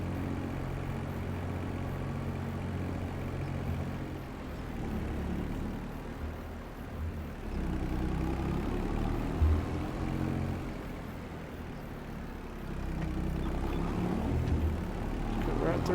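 A small, fast tractor engine in Farming Simulator 25 drones steadily through the whole stretch with low rumbling tones, dipping and rising as it drives, while someone talks over it at times.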